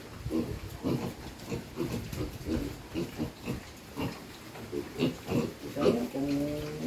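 Pigs on a backyard farm in the Philippine countryside grunting and oinking repeatedly in short rhythmic bursts, close and fairly loud, with a voice talking over them.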